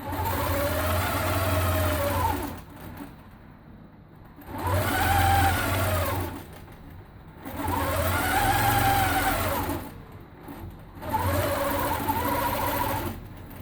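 A longarm quilting machine stitching lines along a ruler, its motor whirring in four sustained runs that rise and fall in pitch, with quieter humming gaps between passes, close by.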